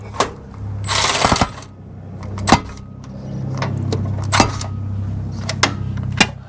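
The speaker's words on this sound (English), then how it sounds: "we'll get our 3/4 inch box wrench up there, and then just come in with the ratchet" Close mechanical clicking and clanks from a ratchet and box wrench working a track bar brace bolt on a Jeep JK, with a burst of rapid ratcheting early on followed by scattered sharp metal taps.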